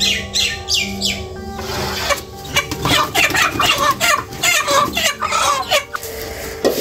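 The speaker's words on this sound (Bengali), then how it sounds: "এই যে মুরগি নিয়ে আসছে বড় বড় দুইটা" Two large chickens cluck repeatedly in quick, uneven bursts at close range in a village home, with faint talk in the background.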